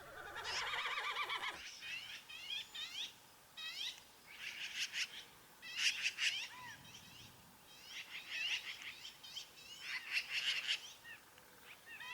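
Several birds chirp and trill in bursts over soft early-morning outdoor ambience at Pinnacles, their calls repeating irregularly at a moderate distance with no voices.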